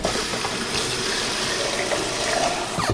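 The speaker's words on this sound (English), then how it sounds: "I'm going to put about a cup of water in this sauce jar, shake it up so I don't waste any." Water pours steadily into a glass pasta sauce jar in a kitchen, a continuous close splashing and filling with a brief clunk near the end, and no talking.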